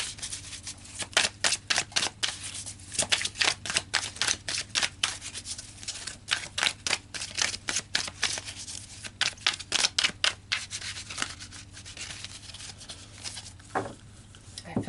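Tarot cards are shuffled repeatedly in quick riffling bursts, close and crisp, pausing briefly between rounds.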